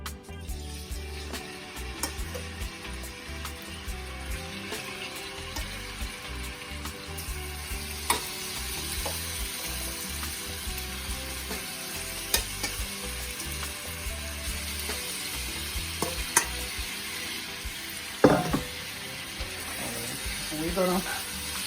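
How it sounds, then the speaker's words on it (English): Steak frying in hot oil in a covered pot, a dense continuous sizzle with scattered crackles and pops, moderately quiet and close, with no talk over it. "I'm gonna add my steak to my oil"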